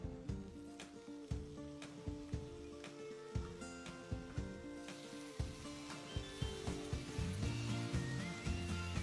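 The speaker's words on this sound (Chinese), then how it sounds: "最后加入调味料炒匀" Mackerel fried bee hoon sizzles in a hot wok as seasoning is stirred through, with rhythmic scraping and clanking strokes of a spatula over a steady frying hiss, close up and moderately loud, with no voices.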